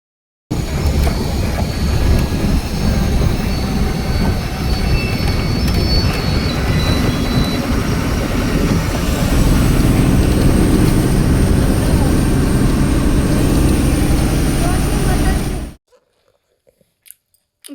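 A passing express bus or train roars steadily near a roadside stop, loud and continuous for about fifteen seconds before cutting off abruptly.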